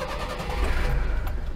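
A JDM imported truck's engine turns over and catches, settling into a deep, steady low rumble with a dense throbbing exhaust note, close and fairly loud, no talking.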